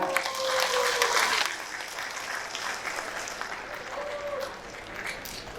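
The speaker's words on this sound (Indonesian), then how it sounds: "Tepuk tangan." An audience at a university graduation and inauguration ceremony claps, louder at first then settling into a softer, steady patter with a faint tone in the background.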